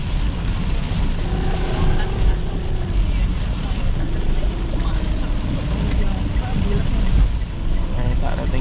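A Toyota Calya automatic drives along the Pantura road in very heavy rain, giving a loud, steady roar of rain and road noise inside the car while someone talks over it.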